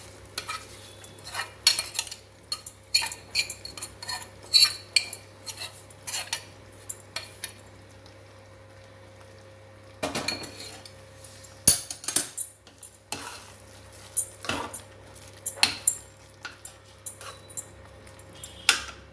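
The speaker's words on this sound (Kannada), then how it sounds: "ಗೋಡಂಬಿ ದ್ರಾಕ್ಷಿ ಇದ್ರ ಮೇಲೆ ಹಾಕ್ಕೊಳ್ಳೋಣ ಈಗ" Cashews and raisins go into sweet pongal in a pan, with a spoon scraping and clinking against the metal. Irregular close clatters and stirring run over a soft background hum, and no one speaks.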